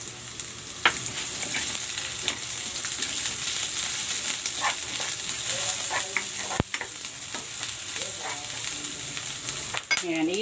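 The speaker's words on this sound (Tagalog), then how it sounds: "Igigisa ko na tong bawang." Garlic and onion sauté in cooking oil, with a loud, continuous sizzle and crackle close by and spatula scrapes and taps on the pan throughout.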